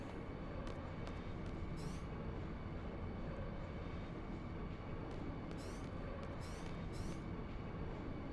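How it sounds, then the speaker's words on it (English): A steady, loud train rumble inside the Final Fantasy VIII video game, a continuous low roar of rolling wagons with a few brief higher screeches and clicks over it, no voices. "Ready for a train ride!"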